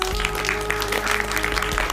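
Loud, dense applause fills a prize distribution ceremony hall, sustained and steady throughout with a faint tonal hum underneath and a little background chatter.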